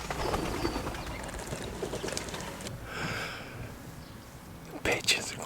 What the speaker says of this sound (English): I got six wood pigeons feeding right in front of me now.